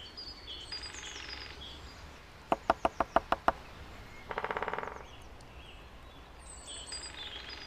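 A great spotted woodpecker drums a short, rapid burst of sharp knocks, followed by a faster buzzing roll, with birds chirping faintly in the distance, in Britain.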